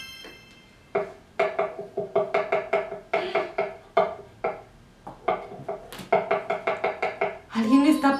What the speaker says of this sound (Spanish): ¿Alguien está picando fruta o verdura? Es un cuchillo.